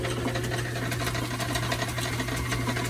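A machine tool cuts a driveshaft flange in a shop, a steady close mechanical whir with a low constant hum and a fast repetitive chatter running throughout, no talking.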